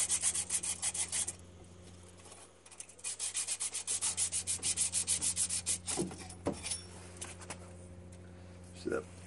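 Sandpaper rubs back and forth in quick rhythmic strokes, close and scratchy, with a pause before a steady run of regular strokes and a few clunks toward the end; talking is also heard.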